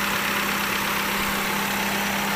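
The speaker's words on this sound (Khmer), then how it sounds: "នេះម៉ាស៊ីនខ្ញុំបានកំពុងតែបញ្ឆេះឡាននេះអត់ទាន់មានញឹកញ័រទេ" A 1997 Hyundai Atos sits idling, its engine giving a steady, even hum with a low rumble, close and alone with no voices.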